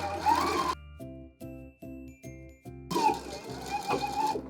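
A sewing machine stitches and backstitches a half-inch seam in repeated short bursts of motor whir, loud and close. Steady noise at the start and end probably holds talk.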